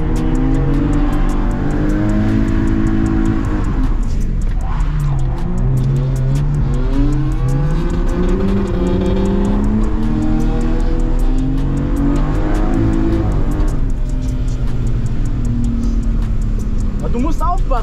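A BMW E36 320i engine revving hard at full throttle on a track, loud rising and falling engine notes with gear changes and tire noise, close by, mixed with people talking.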